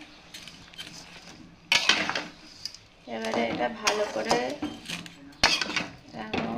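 Spoon scraping and clinking against a pot while fried vermicelli is stirred into boiling water for semai payesh, in a series of metallic knocks and scrapes, with a person talking over much of it.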